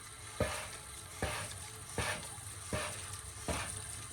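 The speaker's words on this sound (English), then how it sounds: "So right now I'm just pumping it some more." Oil extractor pump drawing engine oil from an Audi S4/S5-family engine during a DIY oil change, heard as a steady gurgling, bubbling flow with five evenly spaced sharp sucking pulses from each pump stroke, close and moderately loud.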